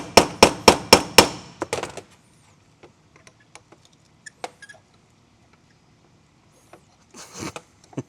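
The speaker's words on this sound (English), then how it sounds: "hold the fork like this and then hammer straight down" Hammer blows driving a shift fork into a Subaru STI transmission: a quick run of five or six sharp metallic strikes, then scattered lighter taps and clinks, with a rustling shuffle near the end.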